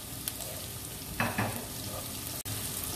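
Tomatoes simmering in a pan for a stuffed meat bread filling, giving a steady soft sizzle and bubble close by, with a brief stirring scrape midway and no talking.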